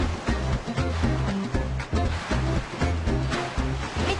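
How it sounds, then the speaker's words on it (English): Dried pasta rattles rapidly down a helter-skelter chute into bags at a factory, a dense continuous clattering rush under steady machine hum with a repeating low mechanical thump. "That's the sound of the dried pasta zooming down the helter-skelter into the bags below."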